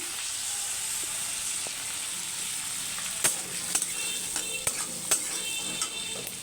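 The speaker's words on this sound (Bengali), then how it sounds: "গ্যাসের ফ্লেমটা বাড়িয়ে এটাকে দু তিন মিনিট ভাজবো" Steady sizzling of food frying in hot oil over a raised gas flame, for a bottle gourd and prawn dish, with occasional clicks and scrapes of a utensil stirring near the end.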